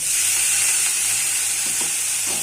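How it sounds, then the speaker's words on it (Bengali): Bitter gourd (karela) fries in a hot pan with water added, producing a steady loud sizzle and hiss with faint stirring scrapes and no speech. "যখন করলা এরকম ভালো ভালো একটু ভাজা হয়ে গেছে, তখন আমি এর মধ্যে একটু জল অ্যাড করবো"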